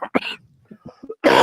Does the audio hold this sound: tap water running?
no